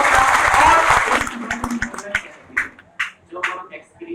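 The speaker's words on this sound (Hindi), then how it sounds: "तो हम चाहेंगे कि एक बार जोरदार ताली" Audience in a coaching-centre classroom bursts into loud clapping and applause, dense for about a second before thinning into scattered, fading claps.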